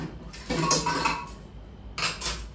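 A pot of freshly cooked rice is lifted off the stove, giving two short bursts of metal pot and utensil clatter and clinks, close and fairly quiet, with a short pause between them.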